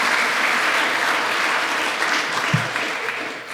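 Sustained audience applause at a pro-life conference closes a keynote address, a dense, even wash of clapping from a large crowd that continues steadily throughout.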